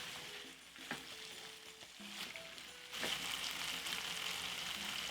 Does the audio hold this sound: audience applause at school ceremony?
no